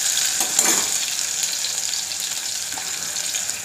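Chopped onions and crushed garlic fry for dal in a pan on medium-high heat, giving a steady close sizzle with a brief stirring scrape near the start and no talk.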